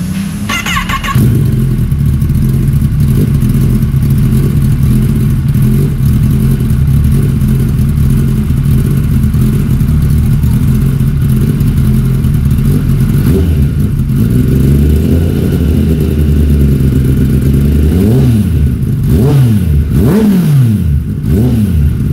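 A Kawasaki ZX10R fitted with a new plug-and-play aftermarket exhaust silencer starts up and idles with a deep, loud, close rumble, then is revved in several rising and falling blips near the end.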